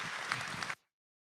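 Brief burst of audience applause at a summer pitch competition, a dense patter of clapping at moderate distance that cuts off abruptly after under a second.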